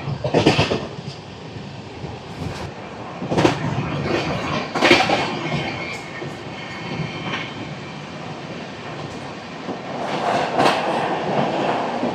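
The Garib Rath Express train rumbles steadily past Hamsavaram railway station without stopping, with broadband roar and occasional clattering bursts, fairly loud and continuous, no voices.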